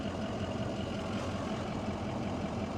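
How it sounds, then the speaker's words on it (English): A heavy fire truck engine with a hole in its exhaust idles steadily and loudly, with a rough, raspy rumble throughout and no pauses. "there's a hole in the exhaust. So it might be a little loud."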